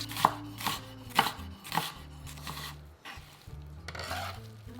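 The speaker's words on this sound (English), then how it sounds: "I'm just chopping up some parsley right now" A knife chops rapidly on a board, a run of sharp close taps with short pauses, like parsley being cut, while something sizzles faintly in the background.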